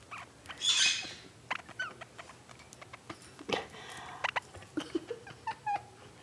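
Pet birds playing indoors make scattered light scratches, pattering footsteps and brief chirps and squeaks, with a louder burst of rustling early on, all fairly faint and close with no talking.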